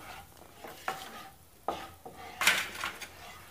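Spices such as turmeric and chili being added to slightly cooled oil for cauliflower, turnip and carrot pickle, with a spoon scraping and clinking against the pan in several short stirring strokes.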